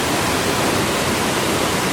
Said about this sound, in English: Here's an even closer look at Krakatau, the waterfall.